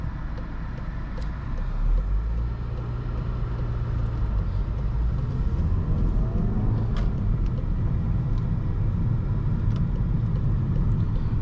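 A Volkswagen Golf R with a turbocharged 288-horsepower four-cylinder and six-speed manual cruises on the road, its steady low engine and road drone filling the cabin evenly throughout, with no talking.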